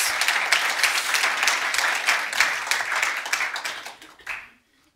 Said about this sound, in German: Ja, Applaus für das!